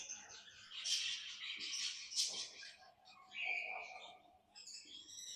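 A full aviary of many pet birds chirps and calls in overlapping bursts, a busy, fairly quiet chorus of tweets and trills close by.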